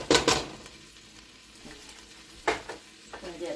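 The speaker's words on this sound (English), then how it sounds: "Alright, I'm going to go ahead and add my flour." Flour hitting melted butter in a pan sets off a close crackling sizzle, with stirring scrapes and two louder bursts of frying near the start and again mid-way.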